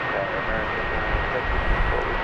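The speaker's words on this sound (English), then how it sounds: "Here's flight 1667, an Airbus A321 arriving" An Airbus A321 jet airliner arriving at DFW Airport gives a steady engine roar with a thin whine on top, heard at moderate distance under radio-style talk.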